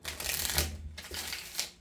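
A deck of tarot cards is shuffled close up during a reading, giving dense papery riffling and crinkling in two or three quick bursts, with no talking.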